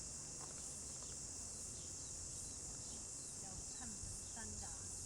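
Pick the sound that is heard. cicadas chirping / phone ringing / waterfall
cicadas chirping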